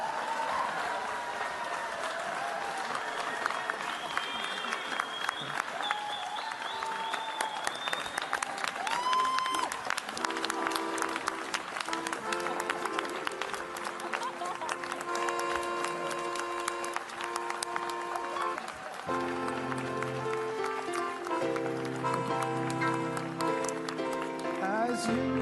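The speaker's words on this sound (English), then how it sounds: "Feel free to applaud if you so choose." Audience applause at the Ig Nobel Prize ceremony in a lecture hall, steady clapping from a crowd with a few voices and musical tones mixed in toward the end.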